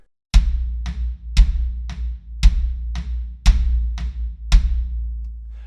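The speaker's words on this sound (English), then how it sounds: "we're back to our basic of just having 8/8 notes on the floor tom" Steady eighth-note floor tom hits over a deep bass drum on each beat, close and punchy, about five seconds with no talking.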